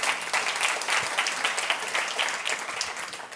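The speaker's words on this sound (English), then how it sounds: "A little round of applause." An audience at a forum in Montreal breaks into applause, a sustained wash of many hands clapping at moderate volume for several seconds, no speech over it.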